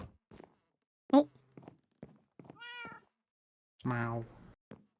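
A cat meows in Minecraft, a short distinct mew among game footsteps, clicks and brief voices nearby.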